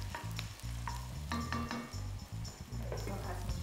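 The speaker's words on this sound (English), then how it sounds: "what I'm gonna do is start by sauteing the onion" Onion sautes in a pan with a steady sizzle, while a utensil stirs and clinks against the pan now and then.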